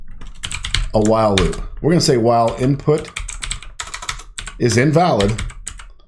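A computer keyboard clatters with steady typing as code is entered, mixed under someone talking throughout at close range.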